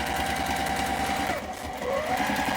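A sewing machine runs steadily, stitching down the edge of waterproof canvas for a jelly-roll tote bag, its fast mechanical whir continuous and close with a brief dip partway before picking back up.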